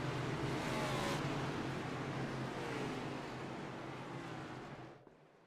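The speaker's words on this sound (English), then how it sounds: "Porter on the inside will mash the gas pedal, put us back to racing" A field of race trucks accelerating on a restart at Michigan in a racing video game, a loud dense engine roar that swells early and fades out near the end, with no talk.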